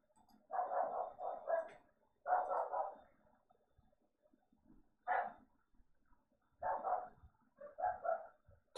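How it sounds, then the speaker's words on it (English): A dog barks outside in several separate bursts of rapid barks with pauses between them, somewhat muffled and distant, with no talking. "Sorry about that dog outside if you hear him."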